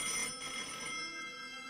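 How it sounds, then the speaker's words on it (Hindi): A landline telephone rings with a steady, bright electronic trill that carries on without a break, with no one talking over it. "सुबह पहुंच के वहां होटल में चेक इन किया ही था कि आनंद का फोन बजा।"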